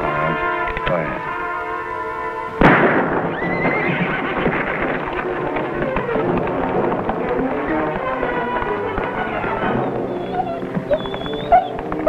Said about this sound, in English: So I spook up the horse and he don't get on.